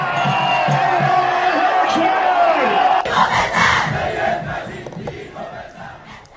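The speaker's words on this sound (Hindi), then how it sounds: "नीचे सड़कों पर हजारों की भीड़ नारे लगा रही थी" Large street crowd of thousands in Tehran shouting slogans, a loud dense roar of many voices that stays strong throughout, with a shift in texture about halfway and a slight fade toward the end.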